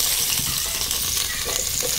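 Green chillies and a large onion frying on a low flame in a pan for paneer biryani, giving a steady close sizzle with light stirring and no voices.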